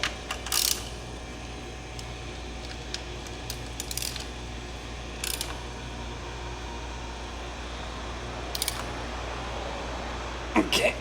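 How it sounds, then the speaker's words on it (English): A ratchet snugs a frame slider bolt on a 2011-2015 Suzuki GSX-R600, giving a few short clicking bursts against a steady background hum in a quiet workshop, with no talk. "Put my ratchet to it just to get it a little snug."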